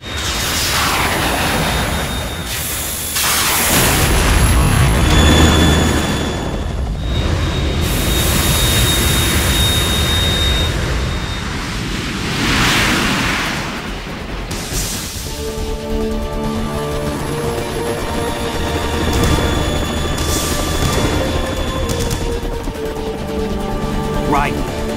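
Harrier jet engine in the Metal Gear Solid 2 video game, a loud, sustained roaring rush with blasts and swells, mixed with game music tones and character voices.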